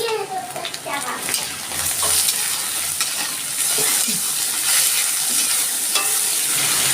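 Shrimp frying with garlic and onion in a pan, a steady loud sizzle with stirring scrapes running throughout, no voice over it.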